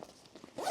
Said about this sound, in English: So I can zip this up.